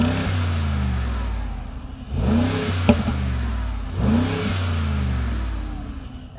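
A Mercedes G63 AMG V8 with European side-pipe exhaust revs twice from idle, each rise swelling into a deep roar before settling back to a throbbing burble, heard close from outside with a sharp pop between revs.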